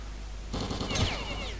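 Rapid bursts of automatic gunfire in the shooter game S.T.A.L.K.E.R.: Call of Pripyat, fired at a wall inside a mercenary camp. The shots start abruptly and rattle in a fast, moderately loud string over steady background ambience.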